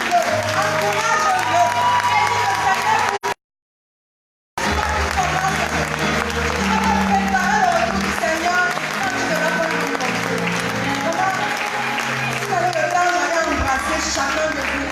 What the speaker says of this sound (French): acclame ton frère